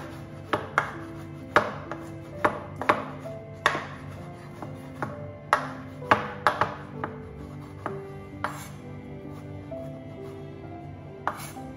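Chickpeas chopped into pieces with a knife on a board: a dozen or so crisp, irregularly spaced chops up close, each with a short ringing tail, and no talking.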